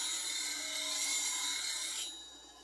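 A woodturning beading gouge is sharpened by hand, its steel rasping steadily and closely against the sharpening surface for about two seconds before the scraping stops.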